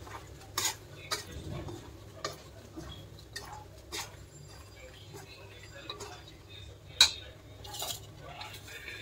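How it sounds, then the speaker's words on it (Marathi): A metal spoon scrapes and clinks against a pan while a homemade masala mixture is stirred, quiet and irregular, with a few sharper taps and some talking. "आता हे आपण कालवून घेऊया थोडंसं।"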